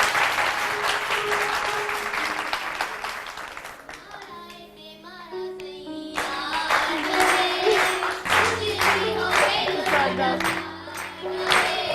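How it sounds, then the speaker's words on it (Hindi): Studio audience applauding on a Hindi-language morning television show: sustained loud clapping that eases briefly in the middle, then swells again, with musical tones sounding underneath. "तालियां हो जाए उसके लिए."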